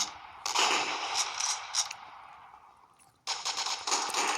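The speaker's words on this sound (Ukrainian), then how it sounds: "А де вони всі тут стріляють?" Bursts of rapid gunfire in the video game KUBOOM crackle in two volleys separated by a short pause, sharp and fairly loud, with no talking.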